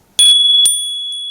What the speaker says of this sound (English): It's a Japanese mid-century Pegasus, and it has an external clapper.